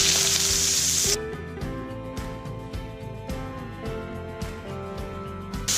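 Cumin and chopped onions hit hot oil in a wok with a loud, bright sizzle that settles into steady crackling frying, accompanied by repeated soft stirring scrapes, with no talking.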